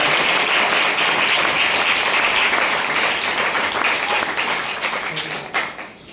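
A congregation at a Christian prayer meeting in Kalichpur, Gurdaspur claps together in sustained, close applause for several seconds before it tapers off near the end.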